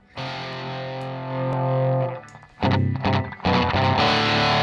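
Airwindows density distortion plugin saturating a sustained synth tone, thick and fat. It then cuts to louder, choppier saturated chords, all without talk.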